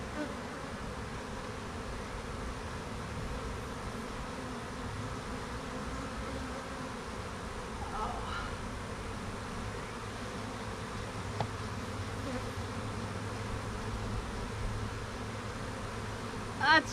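A dense mass of honey bees drones steadily from an open hive, close and continuous, with faint intermittent rustles and a soft voice here and there beneath the buzzing.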